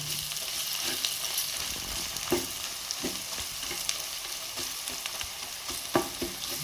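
Onions fry for chicken curry in a pan, giving a soft continuous sizzle broken by occasional scraping stirs and light knocks of a spoon, fairly quiet and close, no speech.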